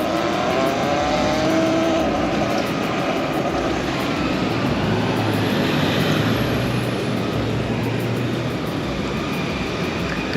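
Electric motorcycle climbing a steep San Francisco street toward the city's highest point, giving a steady broadband road and wind rush with a low hum that swells midway, continuous and close throughout.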